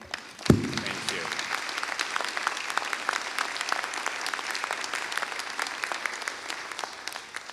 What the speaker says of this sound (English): So if you will give a round of applause to this church.